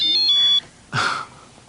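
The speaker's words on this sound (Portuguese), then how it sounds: "O bip do meu telefone." A short electronic beep with a few bright tones sounds, then cuts off, followed by a brief burst of breathy noise and quiet.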